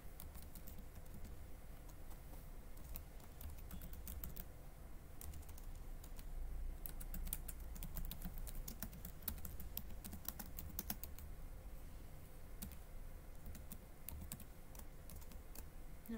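Steady, light clicking of a computer keyboard as Python code is typed on Ubuntu, with irregular key taps at close range in a quiet room and no voices.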